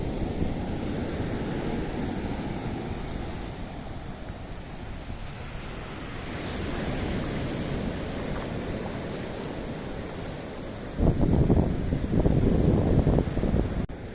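Sea waves wash up on the beach at Nice on the French Riviera, a steady broadband surf roar with wind, swelling into a louder, closer rush of breaking water near the end.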